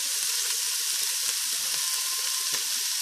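Onions frying in a pan for caramel pork, a bright, even hiss of sizzling oil held steady from start to finish, with a few low stirring bumps and no voices.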